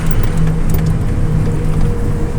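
A truck rolls steadily along a road on a long overnight haul toward Thakurgaon, its engine a constant low rumble with road and wind noise filling the whole stretch, loud and close from inside the cab.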